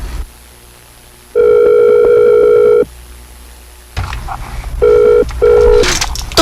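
Cellphone ringing, a loud electronic tone held for about a second and a half, then shorter repeated bursts after a pause, alone with no talk.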